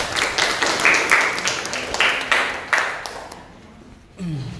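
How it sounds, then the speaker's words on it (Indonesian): A classroom group claps together in a short, steady patter of applause that thins and fades out after a few seconds, with a faint voice at the very end. "Beri tepuk tangan dulu."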